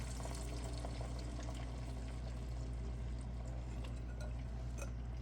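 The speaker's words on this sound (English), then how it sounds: "So I'm pouring about 4 cups of water in here." Water pours steadily into a cooking pot to make broth for cornbread dressing, a continuous close splashing trickle that runs unbroken for several seconds.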